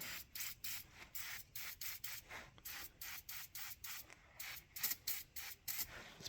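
Short rhythmic bursts of aerosol spray on a Mustang skid loader, hissing in quick repeated pulses, close by with no talking.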